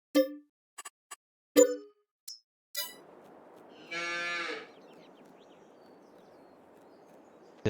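A cow moos once in the Farming Simulator 22 video game, a loud drawn-out low call that follows several short metallic dings and clangs and fades into quiet background hum.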